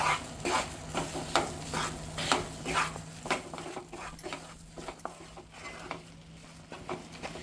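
Besan flour roasting in ghee in a pan, stirred constantly with a spoon: repeated scraping strokes in a steady rhythm over a soft, continuous sizzle, close and moderately loud, with no talking.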